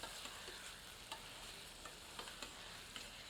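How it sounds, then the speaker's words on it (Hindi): Chickpeas roasting with spices over high heat, a faint, steady sizzle with light ladle scrapes and taps at intervals. "अब चनों को मसालों के साथ तेज आंच पर 1 मिनट तक भूनते हैं और निरंतर करछी चलाते रहते हैं।"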